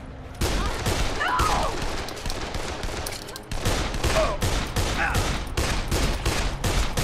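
Sustained automatic gunfire strafing a player in Dead Island, a dense, loud fusillade of rapid shots running almost without pause, briefly cut off midway before resuming just as hard.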